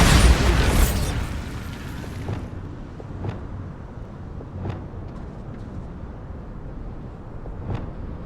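A Bombarda spell blast in Hogwarts Legacy erupts as a loud, close explosive roar that fades over two seconds into quiet ambience punctuated by a few small sharp pops.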